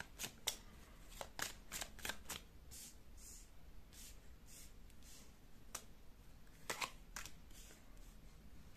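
Tarot cards shuffled by hand in quiet surroundings, with a run of crisp riffling bursts early on, a pause, then a few more flicks near the end, with no talking.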